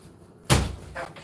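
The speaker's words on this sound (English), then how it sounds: "Mother George hit the door." A single sharp thud as someone knocks into a door, loud and close, followed by a faint trailing rustle.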